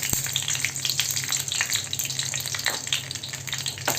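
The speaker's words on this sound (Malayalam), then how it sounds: "എരിവുള്ള മുളകാണ് ഇത് നമുക്കൊരു അഞ്ചാറെണ്ണമാണ് എടുത്തിരിക്കുന്നത് ഇത് നമുക്ക് ഇതൊന്ന് വറുത്തെടുക്കണം" Five or six spicy dried red chillies fry in coconut oil for an eggplant chammanthi, giving a close, steady sizzle with a brief sharp tap near the start and no talking.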